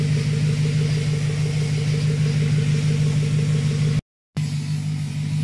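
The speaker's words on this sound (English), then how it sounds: "So take a listen of the quad exhaust pipe for the V8 engine. Pretty nice roaring sound." 2005 BMW 545i luxury sedan's V8 engine rumbles steadily through its quad exhaust pipes, a loud, continuous idle drone that cuts out briefly near the end, then resumes.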